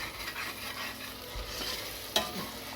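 Onions cooking over simmering heat in a pan, stirred with a utensil against a constant soft sizzle, one brief sharp scrape or tap partway through, close and without voices.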